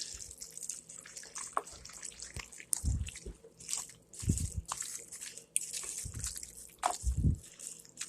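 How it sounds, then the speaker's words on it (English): Macaroni and cheese stirred in a pot over low heat, giving soft wet squelches and scraping thuds in irregular bursts, fairly close, with no talking. "And now we're just going to stir it."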